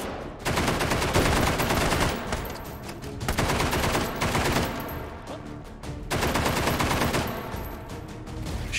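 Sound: gunshots from a gun in the VR game Hot Dogs, Horseshoes & Hand Grenades

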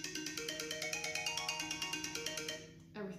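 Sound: mobile phone ringtone on incoming call

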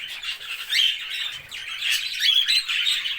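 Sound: caged birds chirping

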